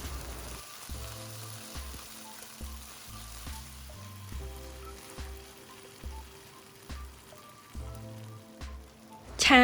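Short noodles stir-fry in hot oil with garlic browned until reddish, giving a faint, steady sizzle beneath stepping background music, with a louder scrape at the end.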